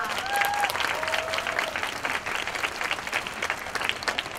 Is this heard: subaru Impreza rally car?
no